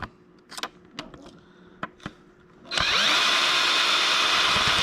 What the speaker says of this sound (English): we're going to just back out the whole stud with the drill bit